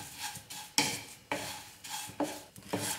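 Poha (flattened rice) dry-roasted without oil over low to medium flame in a pan: a steady rasping, rustling scrape as the flakes are stirred, with a few sharper spatula knocks against the pan at irregular intervals.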